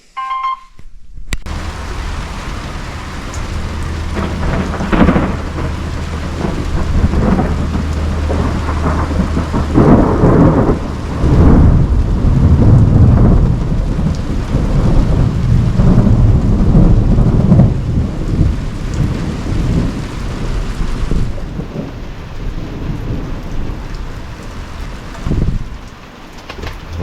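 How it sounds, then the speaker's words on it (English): A thunderstorm rolls through with heavy rain drumming steadily and deep rumbles of thunder building and fading over nearly half a minute, loud and close, with wind buffeting the microphone and no voices. "I love thunderstorms."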